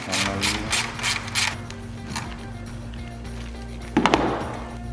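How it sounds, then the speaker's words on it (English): A ratchet with a 10mm socket clicks rapidly while backing out a bolt on a Jeep Wrangler JL or Gladiator JT, close and fairly loud over a steady background hum, followed by a brief clatter. "We're going to use a 10mm socket to remove this bolt"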